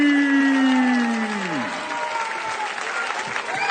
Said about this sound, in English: Slim Trabelsi, on peut l'applaudir encore une fois